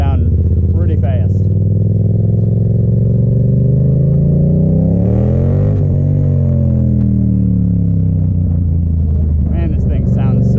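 A Yamaha FZ-07 motorcycle engine idles loud and close with a deep throaty rumble, revving up and easing back down in the middle.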